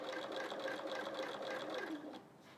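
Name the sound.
domestic sewing machine stitching a quilt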